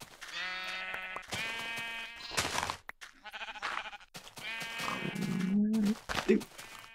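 Sheep in the Minecraft video game bleating repeatedly in drawn-out, wavering cries, loud and close, overlapping one another, with a person talking in between and over them.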